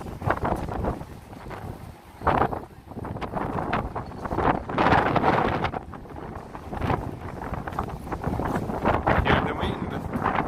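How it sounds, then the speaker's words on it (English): Strong wind buffets the microphone near a staircase entrance to the High Line in New York City, a loud, continuous rumbling roar that surges and dips in gusts. "Hear the wind."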